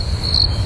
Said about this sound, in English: Crickets, I think, are added by editorial.